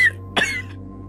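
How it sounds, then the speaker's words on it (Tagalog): A single short cough, close and fairly sharp, against a quiet background with a low steady hum. "Olo, inuubo ka na naman."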